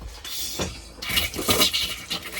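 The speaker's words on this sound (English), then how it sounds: "So we've got water coming out of this tap, just a little bit of pressure because we've not ran that" Water sputters and splashes from a tap in a Rapido 8096 DF motorhome, running with little pressure in uneven gushes and spurts, close and fairly quiet.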